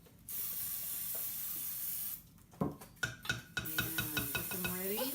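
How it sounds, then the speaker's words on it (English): A steady hiss of aerosol cooking spray onto the bottoms of cake pans runs for about two seconds, followed by clattering metal pans and rattling sounds nearby. "I'm gonna use our kitchen spritzer, and I'm gonna spray the bottom of the pans"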